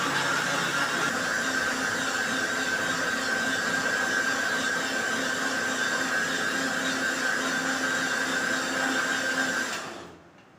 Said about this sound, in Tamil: இப்போ மிக்சியில போட்டு நம்ம மூடி போட்டுக்கிறோம்